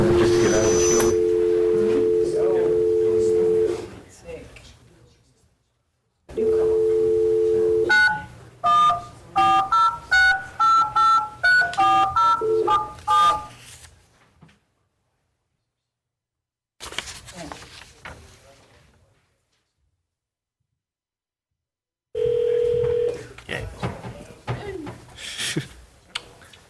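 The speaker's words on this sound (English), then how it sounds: "Maybe we have to dial 19. Is it a long distance call?" A phone line at a planning commission meeting gives a steady dial tone, then a quick run of dialed touch-tones, silence, and another tone, with people talking around it in a meeting room.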